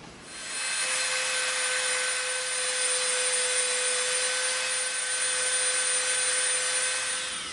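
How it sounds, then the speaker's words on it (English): A Dremel rotary tool sands a bevel into EVA foam, giving a steady, continuous high-pitched whine and gritty abrasive hiss that runs unbroken for several seconds at close range, with no talking. "We're gonna Dremel from this line at the top to this line on the side to create a bevel."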